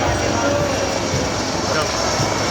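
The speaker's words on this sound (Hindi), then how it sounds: "नेटवर्क सेना के लाइट हेलीकॉप्टर ध्रुव और रुद्र" Army Dhruv and Rudra light helicopters fly past during a Kartavya Path parade, a steady broadband rotor and engine roar that stays loud and unbroken throughout.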